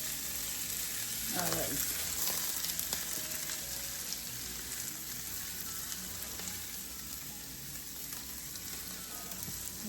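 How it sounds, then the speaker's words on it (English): Shredded cabbage and onion flash frying in a hot pan, a steady loud sizzle with occasional stirring scrapes; a voice speaks briefly near the start. "We're just gonna flash fry the cabbage."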